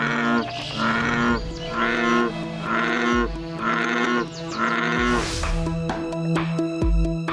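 An American bullfrog gives a loud, deep, bull-like call about six times in a steady rhythm at close range, each call a throaty drone, with no voices over it.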